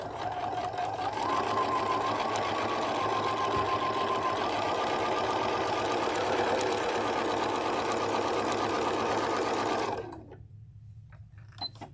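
A sewing machine runs a basic straight stitch at a steady, fast, even whir for about ten seconds, then stops abruptly, leaving only a few faint clicks.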